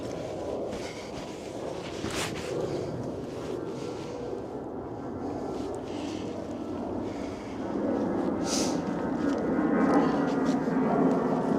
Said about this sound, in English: I hate the plane direction today. It's so freaking loud.